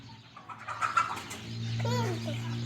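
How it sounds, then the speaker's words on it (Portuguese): Rooster crowing once close by near the end, with short clucking chatter before it and a low steady hum underneath. "De quem é esse galão"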